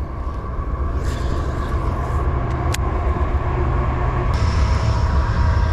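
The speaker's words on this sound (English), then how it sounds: "Train was a little bit loud." Close, loud rumbling of a passing train with a steady rolling clatter and occasional metallic squeals over the top.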